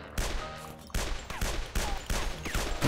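Rapid bursts of gunfire from the video game Guns, Gore & Cannoli, several loud sharp volleys in quick succession about half a second apart, close and punchy with no voices.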